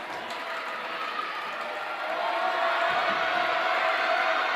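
A home crowd at a girls' high school basketball game swells in a loud, steady roar during a free throw, the din rising further partway through.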